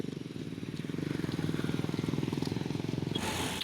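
A steady, rumbling engine drone with a rapid pulsing rhythm as motorcycles pass close by on a street on Diwali, continuous throughout.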